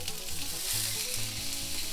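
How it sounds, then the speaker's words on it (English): Hot dogs sizzle loudly in a frying pan, a steady crackling hiss close by with no talking. "And you want them to sizzle like that"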